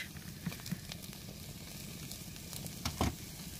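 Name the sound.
crab roast sizzling in a pan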